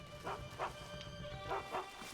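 Dogs barking in the video game Skyrim, four short yapping barks in two pairs at moderate distance over a low ambient game hum, no talk.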